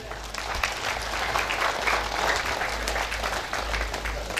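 Guests at a wedding party in Aimere burst into sustained, lively applause, a dense wash of clapping from a large crowd that holds steady for several seconds at close range with no clear speech.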